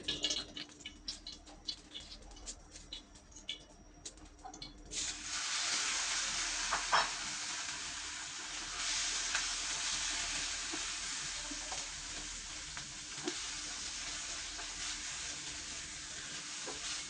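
Cooked beef frying in oil in a pan. Scattered soft ticks and stirring noises are followed by a constant close sizzle, fairly quiet, with no voices.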